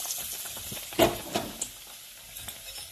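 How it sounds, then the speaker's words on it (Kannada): Batter-dipped bread pakoda goes into hot oil with a soft splash, then fries with a faint, low crackle and sizzle up close, with no talking. "ಈ ರೀತಿ ಎಣ್ಣೆ ಕಾದಿಸ್ತಿ ಅದ್ರೊಳಗೆ ಹಾಕೊಂಡ್ರಿ"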